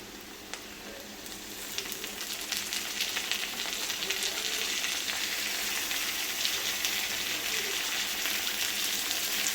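Tomatoes and onions sauté in a pan with a dense crackling sizzle that builds slightly louder and holds steady throughout, close up, with a few faint clicks and no speech.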